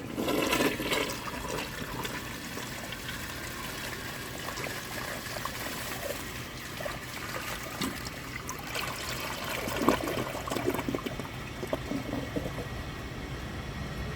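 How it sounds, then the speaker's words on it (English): A 1991 Kohler Wellworth toilet flushes with a sustained rush of water for over ten seconds, then a steady trickle and gurgle as the bowl drains and refills, close and moderately loud with no talk. "So let's give this one a flush and see if it does any differently."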